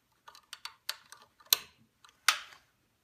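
Sewing machine bobbin case clicking into place, a handful of small, close, crisp plastic-and-metal ticks ending in two louder snaps, in a quiet room with no voices.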